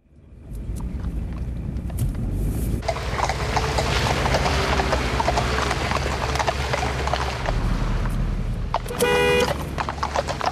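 Horse hooves clip-clop rhythmically on a road while traffic rumbles past, with a car horn tooting briefly near the end.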